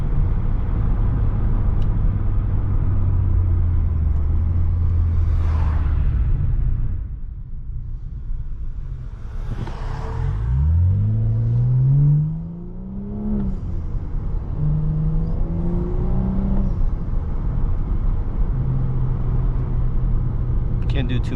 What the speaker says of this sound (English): I love the sound when just sitting there, just revving up spooling.